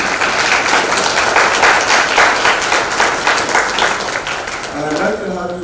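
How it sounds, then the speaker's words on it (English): An audience at the opening of a biodiversity talk in Guyana applauds, a dense, steady wash of clapping from a large crowd that holds for several seconds, with a voice rising near the end. "I'd like to have you join me in applauding the work of Deputy Vice Chancellor Paloma Mohammed"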